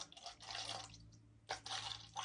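Starbucks pink drink splashing and spilling as it is poured into a cup, a close, quiet trickle with two bursts of liquid separated by a brief pause.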